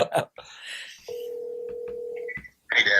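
A telephone on a live outgoing call gives a single steady electronic ringback tone lasting about a second, with brief dialing and voice sounds just before and after it.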